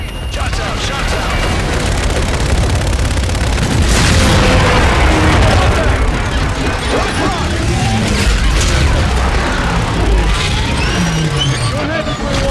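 Heavy rumbling booms and blasts from an artillery strike in Call of Duty Infinite Warfare, loud and continuous, with a dense roar of explosions and battle noise beneath radio chatter.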